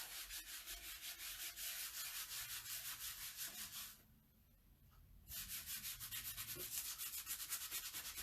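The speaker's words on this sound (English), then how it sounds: "Let me kind of scrub that off." Brisk scrubbing of dried chalk paste off a transfer stencil, a dense rhythmic rubbing close up that pauses for about a second before the strokes resume.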